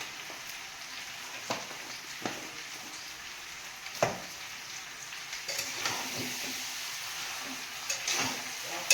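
Meat being fried with spices in a pan, a soft steady sizzle broken by a few sharp stirring clacks of a utensil against the pan.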